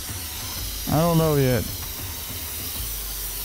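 Spray paint hisses from a can in the video game inFAMOUS Second Son, a steady airy spray running throughout, while a person speaks briefly over it.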